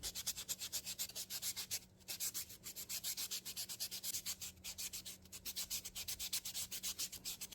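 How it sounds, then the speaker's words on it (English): A buffing block rubs over a gel nail in quick, even back-and-forth strokes, producing a close, soft, rhythmic scratchy rasp that runs almost continuously with brief pauses. "I'm taking a buffing block and then just rubbing carefully on top of the nail"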